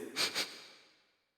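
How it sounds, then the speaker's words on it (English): Two quick, close sniffs taken at a broken plate in Demon Slayer: Kimetsu no Yaiba – The Hinokami Chronicles, followed by a soft trailing exhale that fades to silence. "Give it a sniff."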